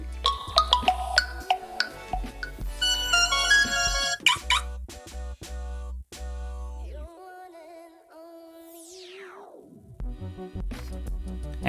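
A Huawei HarmonyOS ringtone plays as a bright electronic melody of plucked, bouncy notes with a long falling sweep near the end, loud and alone without talking.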